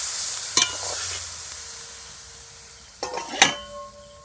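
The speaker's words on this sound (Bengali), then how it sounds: "পরিমাণ মতন জল দিয়ে দিচ্ছি, একটু নেড়ে দেবো" Jujube pickle stirred in a pan just after water is added: two short scraping, clinking spoon strokes against the pan, one near the start and a pair toward the end, separated by quiet.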